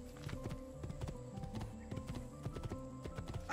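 Hooves clip-clop at a rhythmic gallop in the video game Assassin's Creed II, and a whinny rises near the middle. The game audio plays quietly and continuously.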